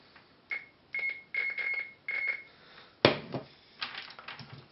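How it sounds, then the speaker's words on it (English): A multimeter set to continuity mode gives a series of short electronic beeps at steady pitch, several in a row as a bicycle light battery box's screws and springs are probed, then louder clatter of handling. "What that does is when it detects a connection, it beeps."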